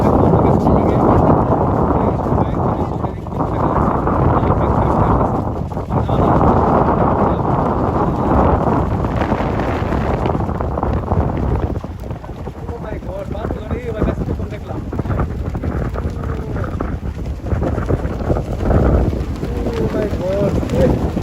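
Strong wind buffets the microphone outdoors beside a parked motorcycle, a loud continuous low roar with gusts that ease briefly around the middle, while people talk under it.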